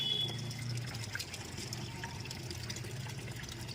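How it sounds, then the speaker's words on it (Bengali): Steady running water pours while raw mutton is rinsed and cleaned, a constant broadband rush holding at an even level from start to finish. "এটাকে ধোবো, ধুয়ে নিই, মাংসটাকে ভালো করে পরিষ্কার করে নিই"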